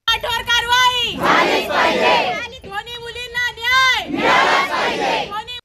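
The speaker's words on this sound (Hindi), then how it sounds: "स्कूल गेट पर अभिभावकों की भारी भीड़" A large crowd of angry parents gathered at a school gate in Badlapur, loud and close, with dense overlapping shouts and voices rising in two big surges.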